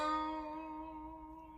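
Slide notes on a three-string cigar box guitar ring out alone with a gentle warbling vibrato, one sustained tone slowly fading over its short length.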